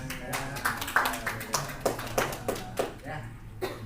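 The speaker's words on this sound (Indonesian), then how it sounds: "tepuk tangan." Light, uneven clapping from participants at a teachers' curriculum workshop, sparse claps spread over a few seconds with faint voices in the room.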